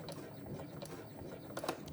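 A sewing machine backstitches over a bulky zipper seam on a pouch, a short quiet run of rapid mechanical stitching with faint ticking, heard close and alone.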